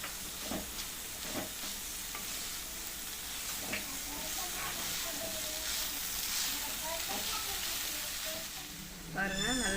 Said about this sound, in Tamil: கீரையை போட்டு நல்லா வதக்கணும்.